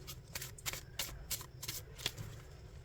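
Tarot cards being shuffled nearby, a quick run of about eight crisp riffling bursts in close succession, soft and fairly quiet.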